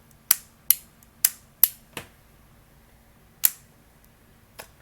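A laser training pistol dry-fires at a Laserlyte target as sharp, close clicks, five in quick succession, then a pause and two more spaced out, with no talk.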